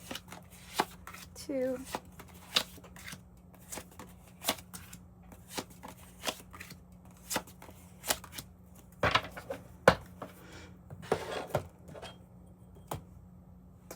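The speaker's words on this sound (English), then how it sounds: "Let's do it by cutting the deck." A deck of tarot cards being cut and shuffled close up, with repeated crisp card slaps and riffles at irregular intervals, plus a brief faint voice.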